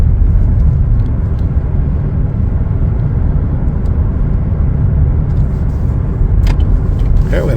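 A Chevrolet Blazer 2LT on the move fills the space with a continuous low road rumble and engine hum, steady and fairly loud, with no one talking.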